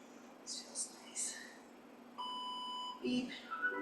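A faint electronic beep sounds once as a steady tone lasting under a second, over quiet room noise and soft movement.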